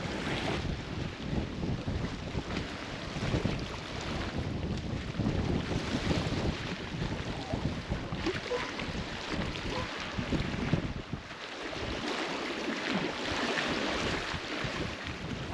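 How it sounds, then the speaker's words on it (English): Strong wind buffets the microphone at a lakeside campground in Maine, a constant roar that surges and dips briefly near the end, with no talk. "It's quite windy today."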